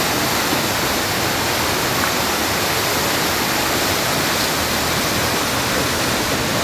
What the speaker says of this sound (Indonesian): Bergemuruh airnya juga ya.